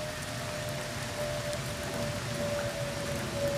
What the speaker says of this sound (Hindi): बारिश तो लगातार मेरे सामने पूरा भीग गया है, बारिश से।